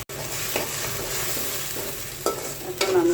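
Onion paste, ginger-coriander paste, chilli paste and turmeric fry in oil while a spoon stirs them, a continuous close sizzle broken by a few sharp scrapes and clinks, with no talking.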